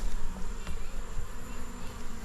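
A steady, dense hum of many honeybees buzzing together in a hive during an early November inspection, close and continuous, with no voices.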